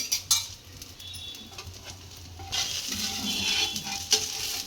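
Dosa cooking on a hot pan with oil, ghee or butter added on top: a scrape and clink of a utensil on the pan, then a louder, steady close sizzle building in the second half, no talk.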